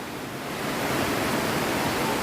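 Heavy water rushing down a waterfall stream at Kolli Hills, swollen and muddied after repeated rain, roaring as a steady, dense, close wash of broadband noise with no pauses.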